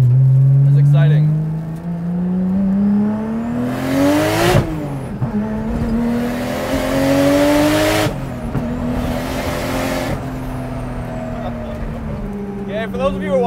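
An RB25-engined Nissan S13 240SX drives along, its engine note rising and falling through gear changes with loud intake and exhaust roar that stays close and constant.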